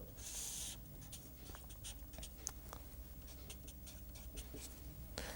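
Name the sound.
chalk or pen drawing a curve on board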